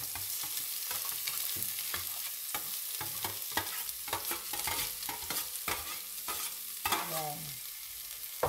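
Escabeche aromatics sizzle in hot oil in a home kitchen pan while a utensil stirs and scrapes them in repeated close strokes; the frying hiss stays loud and continuous, with one brief spoken word.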